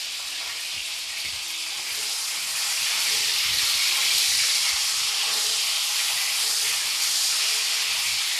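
Parwal (pointed gourd) sizzles and frying in a pan over medium flame after salting. A steady, loud hiss swells slightly around the middle and runs without pause, with no voices.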